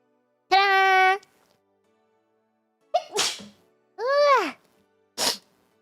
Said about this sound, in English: I really needed that sneeze